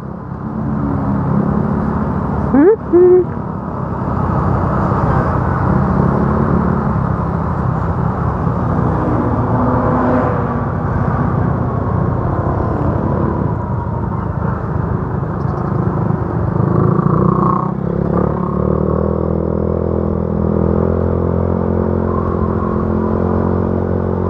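A small motorcycle threads through slow traffic, its engine droning steadily up close with a brief sharp clatter early on and a constant wash of road and wind noise.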